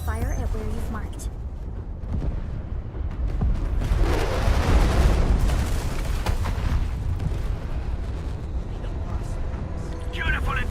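UWST artillery strike in the video game Arknights: Endfield, heard as a sustained, heavy low rumble of explosions that swells in the middle and stays loud under game music and effects throughout.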